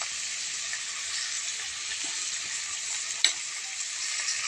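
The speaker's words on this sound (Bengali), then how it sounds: "ওলকপি দিয়ে আরও কিছুক্ষণ আমি ভেজে নেব।" Potatoes and kohlrabi fry in oil in a pan with a steady, even sizzle that holds throughout. A single brief clink of a utensil cuts through close by.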